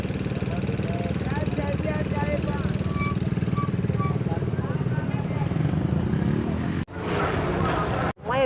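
Busy street traffic of motorcycles, cars and trucks: a continuous loud droning engine hum with a motorcycle's pulsing idle up close, briefly cut off near the end, with someone talking over it throughout.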